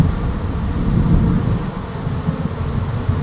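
Low, continuous thunder rumble as a thunderstorm begins near a honey bee hive, a steady deep roll holding for several seconds with no voices.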